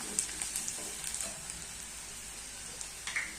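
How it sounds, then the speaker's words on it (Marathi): Turmeric and sambar masala sautéing in a pan, a soft steady sizzle with a few small crackles, faint and close, with no talking. "हळद बरोबर सांबर मसाला छान असं परतवून घ्यायचं"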